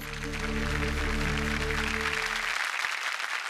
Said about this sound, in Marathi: टाळ्या सुद्धा कमी आहेत खरं तर यांच्यासाठी